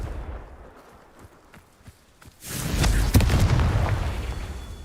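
The Confringo spell in Hogwarts Legacy goes off as a loud fiery blast, a sudden booming explosion with crackling bursts that swells and lingers after a quieter stretch of small pops.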